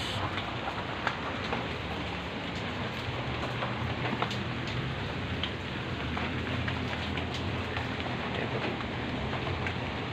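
Heavy rain pours down steadily, a dense, constant wash of drops drumming on surfaces with rushing water beneath, loud and unbroken for the whole stretch with no voices.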